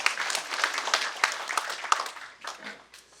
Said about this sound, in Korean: 여기서 박수 한번 치실까요?